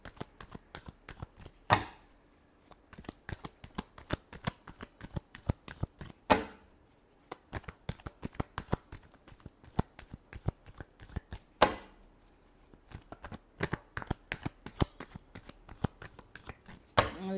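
Tarot cards shuffled by hand in a long run of close, crisp riffles and taps, with louder slaps every few seconds as the deck is cut and regathered, no voices heard.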